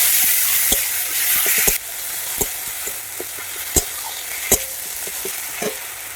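Onion paste hits hot oil with cumin for a magur fish curry, a bright sizzling hiss that eases after a moment into steady frying, punctuated by sharp utensil clicks and taps.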